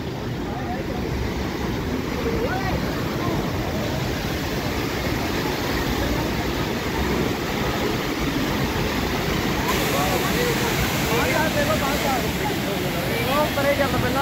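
Waterfall on a mountain road trip toward Rohtang Pass near Manali, a steady broadband roar of falling water filling the whole clip at close range, with no gaps.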